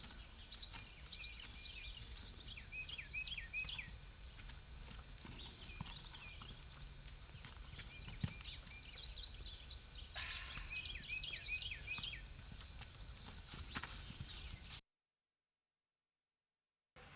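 Horse hooves clip-clopping in a steady walking rhythm, moderately close, with faint bird chirps and background ambience, ending in silence.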